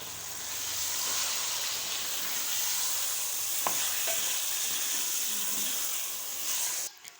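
Shalgam (turnip) curry frying in a pan as sliced tomatoes go in, a steady close sizzle with a few faint stirring clicks and scrapes and no talk.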